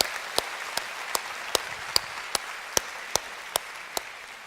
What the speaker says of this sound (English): If you give him a big round of applause as he comes up here